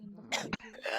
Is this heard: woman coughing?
yes